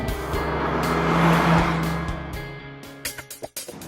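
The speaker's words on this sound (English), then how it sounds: "I'm here driving the 2014 Mazda 3, a car that was 35 years in the making." A 2014 Mazda 3 driving along, its engine and road noise swelling and then fading as it passes, followed by a few sharp clunks and bumps near the end.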